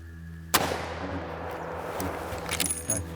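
A single loud, close gunshot cracks out during a banteng hunt in Australia's Northern Territory, a sharp broadband blast followed by a decaying rumble, with faint movement noise afterward and another smaller impact near the end.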